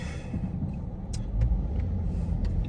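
A Coyote 5.0 V8 car engine idles at a car meet, a steady, close, low rumble with a slight swell partway through and no voices.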